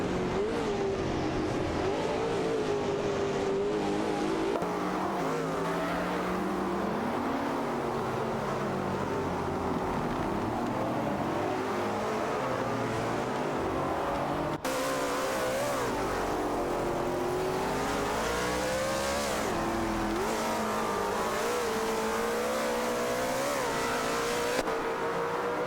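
Race car engines from a racing video game, including a Radical RXE Turbo 600 and a Chrysler 412, scream continuously at high revs as the cars battle side by side, with pitch rising and falling through gear shifts for the whole stretch.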